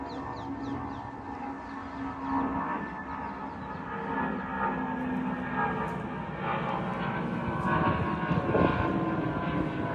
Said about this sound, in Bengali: আকাশে প্লেন উঠে যাচ্ছে